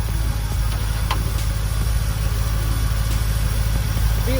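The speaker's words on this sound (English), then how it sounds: "So, while the car is running, you want to check your transmission fluid." A car engine idles with a steady low rumble and fine rhythmic pulsing, running continuously and fairly close, with no talk over it.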